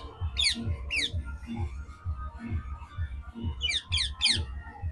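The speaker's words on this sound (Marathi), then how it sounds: "हा तर पोपट" A parrot gives bursts of shrill, raspy squawks, first a pair and later a run of three or four, over a low rhythmic rumble of background music at a village bullock festival.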